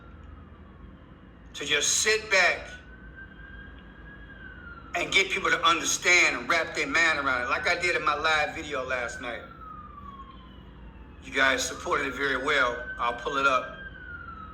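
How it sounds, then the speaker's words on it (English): A siren wails faintly in the distance on a Chicago street, rising and falling behind someone talking close to the microphone. "As you can hear the sirens in the background"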